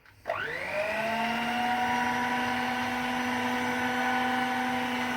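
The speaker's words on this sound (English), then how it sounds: "I've got this little mixer, and this is for bread, for dough." Small electric dough mixer kneading bread dough for Austrian dessert dumplings, whirring up from a standstill within the first half second and then holding a steady, loud motor hum.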